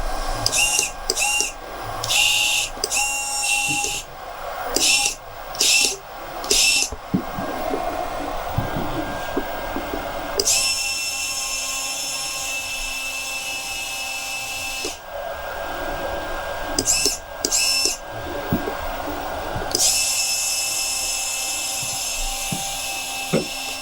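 A 1/10 scale RC rotator tow truck's winch motors whine in steady, high-pitched bursts, starting and stopping repeatedly, then running for several seconds at a time.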